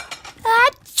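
A single close sneeze from a child, sharp and brief, followed by a breathy burst, with a short voiced sound just before it.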